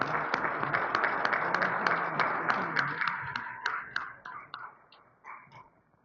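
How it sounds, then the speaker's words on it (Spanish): An audience at a commemorative panel gives a round of applause that starts as dense clapping, then thins into scattered individual claps and fades out. "Lo recibimos con un fuerte aplauso."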